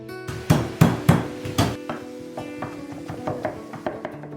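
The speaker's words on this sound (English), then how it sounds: "So we're just mincing up some garlic to go in." Knife mincing garlic on a cutting board while making vegan spinach pies: a run of sharp, close chopping taps, a few quick strikes at first, then lighter, steadier taps that fade slightly. No talking.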